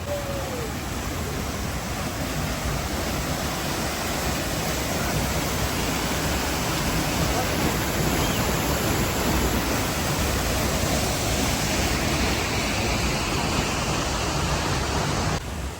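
Noorkhah waterfall in Boniyar, Baramulla roars as a dense, steady, loud rush of falling water, unbroken and close throughout.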